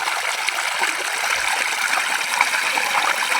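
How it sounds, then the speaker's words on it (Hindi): Water from a pump pours steadily into a paddy field in a village in Bihar, India, a continuous rushing, splashing flow heard close and alone with no talk. "देखिए जैसा कि पानी निकल रहा है"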